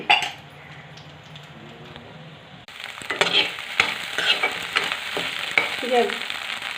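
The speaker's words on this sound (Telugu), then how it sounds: "ఎగ్స్ వేసాను. వీటిని కొంచెం పొరుట్లా చేసుకుంటే" Eggs frying in oil in a pan, being stirred and scrambled, for chicken fried rice; a soft sizzle with scraping and clinking of a utensil against the pan grows louder midway, close and alone without talk.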